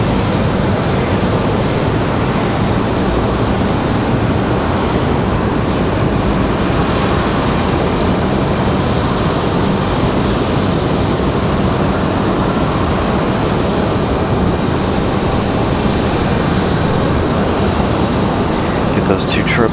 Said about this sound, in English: Those two 777s departing back to back